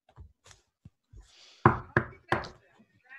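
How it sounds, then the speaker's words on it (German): A metal door knocker struck against a door: three sharp, loud knocks in an even rhythm, preceded by a few faint soft thumps and shuffles. "Ich nutze den Türklopfer und klopfe an die Tür an."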